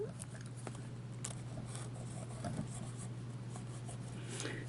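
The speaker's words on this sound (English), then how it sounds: "let me do a quick writing sample of it" A Hero 616 fountain pen with a fine nib scratches softly across paper in short strokes and pauses, a faint, close scribbling over a low steady background hum.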